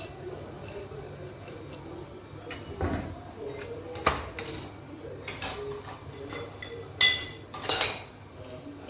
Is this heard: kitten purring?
no